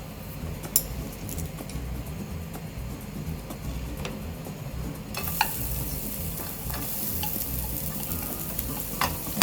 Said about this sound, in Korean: 열이 제일 약한 오이부터 볶아낼게요